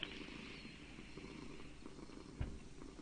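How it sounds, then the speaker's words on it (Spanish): A Minecraft cat purring in the game, a soft continuous rumbling purr heard close and alone over low background noise. "Sí, está ronroneando, está roncando"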